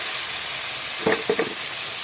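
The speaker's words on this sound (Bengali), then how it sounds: "এখন দিয়ে দেবো ভেজে রাখা আলুগুলো" Fried potatoes tipped into a sizzling spice mix in oil for a steamed egg dish, giving a steady hiss with a few short bursts of clatter and stirring near the end.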